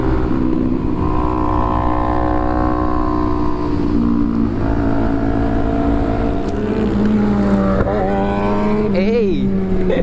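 Kawasaki Ninja 400 motorcycle engine droning steadily during a group breakfast ride, loud and close with constant tonal harmonics and wind noise, pitch rising and sweeping near the end as the engine revs.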